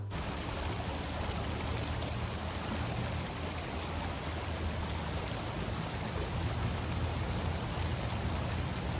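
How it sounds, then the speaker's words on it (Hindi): Steady broadband rush of a flowing stream in a quiet spot in Jammu, continuous and fairly close, with no voices or other sounds. "शोर थी तो सिर्फ बहती हुई पानी का।"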